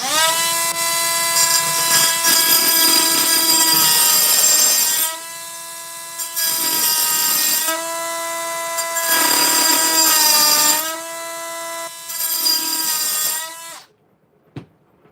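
Rock saw cutting through rock, a loud, sustained whining grind with strong ringing tones that runs in three long passes separated by short pauses, then cuts off abruptly, followed by a small knock.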